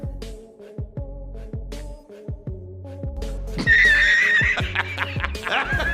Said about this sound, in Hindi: जिस कारण घोड़ा एक ही लात में इसको ठिकाने लगा देता है